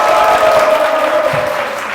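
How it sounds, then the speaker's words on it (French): Studio audience on a television game show applauds a contestant, a loud, continuous burst of clapping and crowd noise that fills the brief moment without pause. "Applaudissements pour le révérend"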